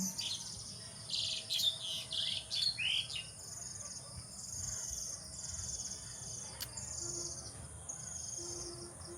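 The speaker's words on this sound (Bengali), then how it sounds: "এই যে পাখিগুলো উড়ে উড়ে যাচ্ছে বাসা বাঁধছে" Birds flying about and building nests chirp in quick bright bursts over the first few seconds, then fall sparse, set against a faint steady insect-like drone in a quiet outdoor setting.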